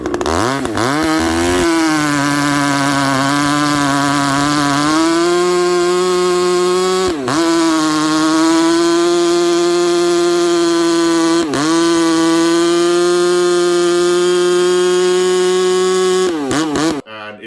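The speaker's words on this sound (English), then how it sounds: "I put that thing in the biggest piece of oak I have" Husqvarna 372XP chainsaw cutting a large piece of oak, a loud close engine drone held under load with brief revs and dips as the chain bites through the wood.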